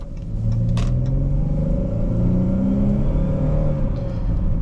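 An all-wheel-drive 2023 Chrysler 300S sedan drives along a snowy road, its engine humming in a steady, close interior drone with rising and falling tones as it gets on the throttle, with road rumble beneath and no voices.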